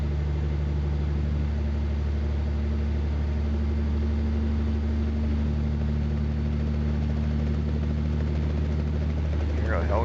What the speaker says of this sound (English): I hear a helicopter there coming to get me.